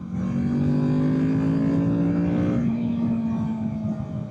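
Engine of a 2024 Kawasaki Z650 naked motorcycle droning steadily while riding, pitch rising slowly and then shifting lower as if changing gear, loud and continuous.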